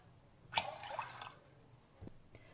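Water pours into a pressure cooker holding horse gram dal, a short faint splash and trickle followed by a brief drip.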